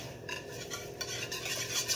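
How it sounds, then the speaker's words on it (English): An egg whisked for cornbread, a quick series of soft rhythmic scraping and tapping strokes against a bowl, close and quiet, with no talking. "I'm gonna whisk this up."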